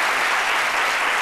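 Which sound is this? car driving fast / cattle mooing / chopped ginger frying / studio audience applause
studio audience applause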